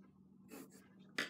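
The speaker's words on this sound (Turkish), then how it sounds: "Hemen tekrardan Faber Kastel kırmızı kalem yazmak istiyorum." A Faber-Castell red pencil writes on paper, making a couple of brief, soft scratchy strokes in a quiet room, ending with a slightly louder scrape.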